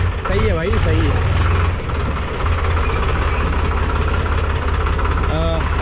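Tractor engine running close and loud with a steady rumbling drone while gears are shifted, a voice talking over it throughout.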